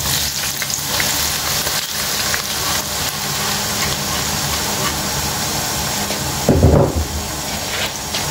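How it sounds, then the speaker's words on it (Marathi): Chopped onion frying in oil with black cardamom gives a steady, close sizzle that runs throughout, with a brief louder burst of stirring near the end. "बरोबर भाजूंक जाय आता कांद्याक."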